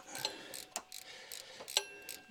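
A 10mm ratchet wrench turns bolts on an LS engine, giving faint quick clicking bursts of the pawl in a rapid irregular rhythm, close but quiet.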